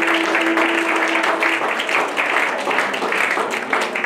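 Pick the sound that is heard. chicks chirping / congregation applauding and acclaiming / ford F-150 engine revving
congregation applauding and acclaiming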